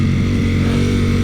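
A Ducati Panigale V4 S engine pulls steadily in third gear, a loud close throaty drone with a low pulsing rumble and no pause.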